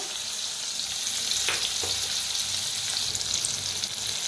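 Curry leaves and onion hitting hot oil with asafoetida for a Marathi bharit tempering, a dense steady hiss with a couple of brief scraping stirs, close and without speech.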